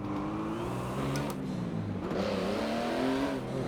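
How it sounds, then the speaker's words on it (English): A racing car engine in Forza Motorsport 7 drones and revs continuously, its pitch sliding up and down as it accelerates and shifts, loud and close. "I like the sound of the car. Sounds are good."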